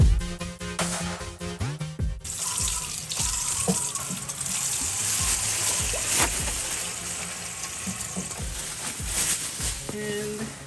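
Running tap water splashes into a sink as beef is rinsed, a steady broadband gush from start to finish with clattering handling noises and brief pauses in the flow.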